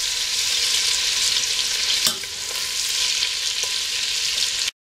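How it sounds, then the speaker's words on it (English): Ham crisping in a hot pan for a ham and potato soup, a strong continuous sizzle with a brief stir knock midway, close and alone before cutting off. "The ham is crisped up"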